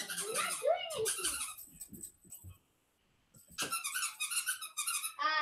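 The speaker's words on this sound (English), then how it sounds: "Rosie, my dog, is an absolute scoundrel." Rosie, a pet dog, makes high squeaky whines and yelps in bursts close by, with a quiet pause in the middle and short livelier squeaks toward the end.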